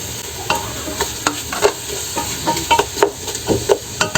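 Garlic and whole peppercorns fry in a pan, a soft steady sizzle broken by repeated scraping stirs and light clinks of a utensil against the pan, close by with no speech.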